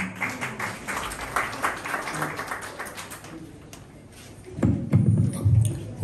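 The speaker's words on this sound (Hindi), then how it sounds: "इनके लिए भरपूर तालियां।" Audience applause in a hall at an Urdu literary book-launch event in Manchester, welcoming a guest director from Italy; dense clapping runs throughout, easing off and then swelling again louder toward the end.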